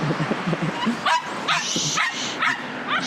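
A dog waiting at a traffic light during a run yips, whimpers and barks excitedly in short repeated bursts, close and fairly loud, with a person's voice briefly underneath at the start.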